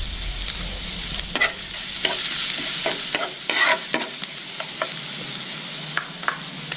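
Garlic sizzles in hot oil while being stir-fried, the steady crackling hiss broken by repeated scraping strokes of a utensil against the pan, close and clear with no talking.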